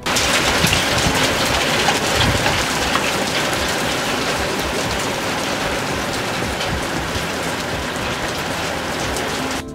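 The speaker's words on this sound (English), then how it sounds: "an unexpected marble-sized hailstorm" Dense, steady pounding of marble-sized hail mixed with heavy rain during a spring thunderstorm, a loud continuous hiss and patter with no pauses.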